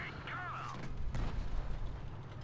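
A tank round strikes in World of Tanks Blitz, fired at a German tier 4 PZ38(t)NA light tank: a heavy booming impact with a rumbling tail follows an earlier whistling sweep, all from nearby.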